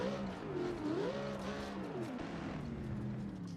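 Off-road 4x4 racing engines in the Ultra Sim Racing video game wind out loudly, their pitch rising and falling as they rev and shift, a continuous close roar with no talking.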